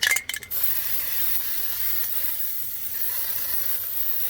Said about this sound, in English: I'm going to use some fluid film